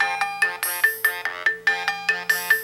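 A mobile phone ringtone plays during an outgoing call on a Samsung Galaxy S3, a loud, bright repeating electronic melody of quick plucked notes in steady rhythm, heard alone without talk.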